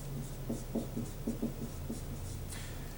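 A black marker squeaks across a writing surface in short, repeated strokes, close and clear, with a steady low hum underneath and no talking.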